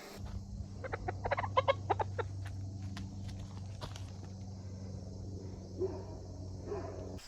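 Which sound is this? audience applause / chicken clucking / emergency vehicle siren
chicken clucking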